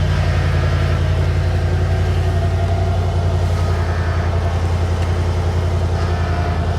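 A Chevy Express 2500/3500 van engine runs at a steady, loud idle, a continuous low rumble throughout with no audible start crank, and no one speaks.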